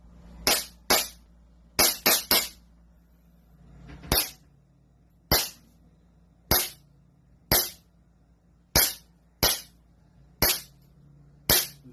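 A repaired toy gun is test fired: about fourteen sharp, snappy shots ring out alone, some in quick clusters and others spaced a second apart, each with a crisp crack and short decay.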